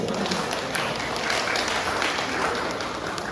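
Audience clapping at a talk on developing personal and student talents, a dense, steady round of applause filling the room from start to finish.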